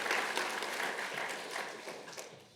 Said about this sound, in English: So can we have a round of applause for Sonica over here?